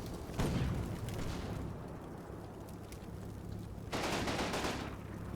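A hull-mounted machine gun in Combat Mission: Battle for Normandy fires two rattling bursts, with a rumbling battle backdrop in between.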